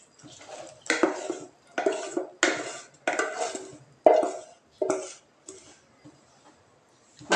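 Melted jaggery being added to wheat flour in a pan, heard as a series of about eight clinking, scraping scoops of a spoon against metal, each burst short and close, fading quieter toward the end.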